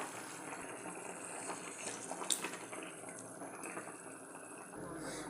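A pot of fish curry with winter vegetables bubbles steadily at a low, even level, giving a soft watery hiss and gurgle throughout with a faint clink near the middle.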